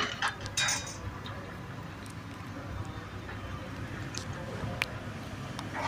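Spaghetti is being mixed with butter in a pan for aglio e olio, giving soft metallic clinks and scrapes of utensil on pan over a low background hum, with a few sharper taps.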